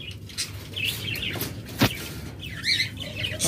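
Caged lovebirds and budgerigars chirp in quick, scattered bursts, with sharp tweets rising over a steady low background murmur and one brief louder call in the middle.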